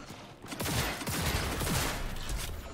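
Dense, sustained gunfire from the video game Cyberpunk 2077, a continuous loud burst of rapid shots filling the whole moment with no talking.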